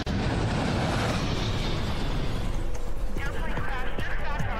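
A loud, sustained roaring blast from the Aeroméxico Flight 498 crash in a residential area, with rumbling low end that stays dense and forceful throughout, followed by crackling debris-like noise.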